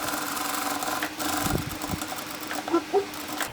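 Sewing machine running a wide gathering stitch on a dress sleeve, a soft continuous motor whir with faint mechanical knocks, fairly quiet.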